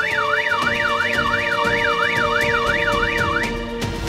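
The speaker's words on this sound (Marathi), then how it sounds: "अचानक असा अलार्मचा आवाज असा काय यायला लागला?" A car alarm wails loudly in a bungalow compound, cycling through steady rising and falling sweeps for about three and a half seconds before cutting off, with no talking.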